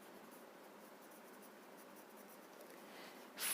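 Graphite pencil strokes on paper during a chakra design drawing, a steady soft scratchy hiss running continuously up close, with a louder brief scrape at the very end.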